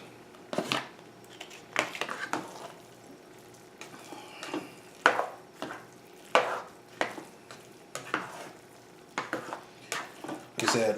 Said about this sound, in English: Make sure I mix that all around.